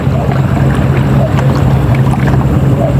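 Strong monsoon wind driven by a typhoon roars loud and constant, buffeting the microphone, with a steady low rumble underneath and no pauses.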